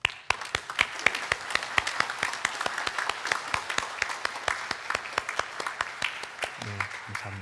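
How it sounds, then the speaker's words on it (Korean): A church congregation claps to welcome guests during a Sunday worship service, sparse distinct hand claps in a fairly steady rhythm, faint and roomy, with a brief voice near the end. "잠깐 자리에서 일어나시면 우리 함께 박수로 환영하도록 하겠습니다."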